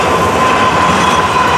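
An FEC freight train passes close by, a loud, steady rumble of rolling cars with a thin wheel-squeal tone riding above, no voices.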